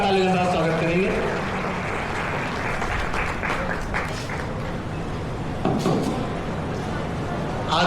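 Loud, sustained applause from an audience welcomes the deputy chief postmaster at a post office retirement felicitation, steady throughout after a voice speaks briefly at the start.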